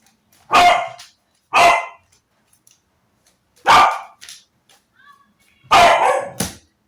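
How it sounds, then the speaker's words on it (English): Several loud barks from pet dogs nearby, coming singly or in quick pairs with silent gaps between them. "Sorry about my dogs."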